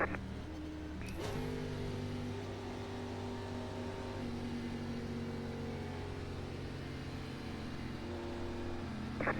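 2003 NASCAR stock car at Pocono in iRacing, a steady low engine drone held at near-constant revs, a short throttle blip and lift near the start, then a long even cruise, with no talk over it.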